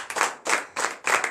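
A church congregation claps in short rhythmic bursts, four quick rounds of hand claps close and fairly loud, with no talk over them.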